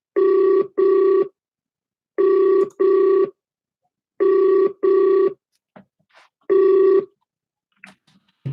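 A telephone rings in paired bursts, repeating four times in a steady ring-ring pattern, loud and close with silent gaps between, followed by a few faint clicks.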